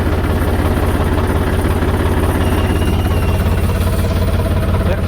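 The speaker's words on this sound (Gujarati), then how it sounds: "ટ્રેક્ટર કર્યું ચાલુ, ચડવા માંડ્યું।" A tractor engine idles with a loud, steady, throbbing rumble that runs unbroken from start to finish.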